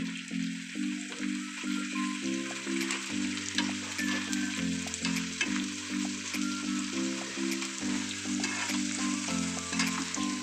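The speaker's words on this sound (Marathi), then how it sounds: "डिंक थोडे टाकून फ्राय करून घेणार आहोत." Edible gum (dink) frying in a pan for laddoos, a steady broadband crackling sizzle throughout, with a repeating low tonal pattern like background music underneath.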